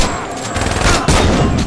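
Rapid gunfire in the video game Saints Row 2, a dense, loud fusillade of overlapping shots filling the short burst with no pause.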